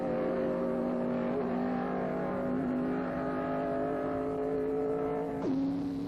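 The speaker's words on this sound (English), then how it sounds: "Gregory has the advantage on this corner and pulls away from the Ferrari." 1957 Formula 1 race cars at the Reims French Grand Prix, a continuous engine drone holding a steady pitch with a sudden drop near the end as a car shifts or passes, loud and unbroken, no voices.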